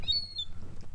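A seagull at a marina gives a couple of short, high chirping calls at fairly close range over a low background rumble.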